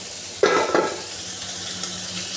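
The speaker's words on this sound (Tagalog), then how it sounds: "Ilalagay natin yung sibuyas, tapos isusunod natin yung gulay" Onion and vegetables going into hot oil in a pan, a sharp burst of sizzling with a second surge a moment later, then a steady close frying hiss that continues alone.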